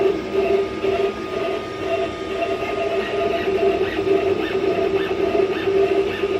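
A Glowforge laser cutter cutting stitching holes in leather: a steady, close mechanical whir and fan hum with a faint tonal whine and soft rhythmic pulses as the head moves, with no talk.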